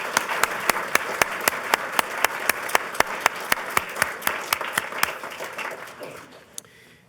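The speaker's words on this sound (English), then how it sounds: "So please join me in a round of applause to thank Charles DeLisi for his impact on the world." A lecture audience at Boston University applauds in the sparse, evenly spaced claps of a small group, steady and close before thinning out and fading to a last few scattered claps.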